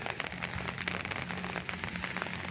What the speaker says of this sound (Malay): Maklumlah hujan sekarang ni.